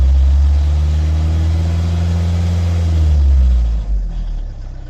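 Car engine with a lifter knock from worn hydraulic lifters, heard close as it accelerates: a steady low rumble climbing in revs with a rough ticking edge, then easing off near the end.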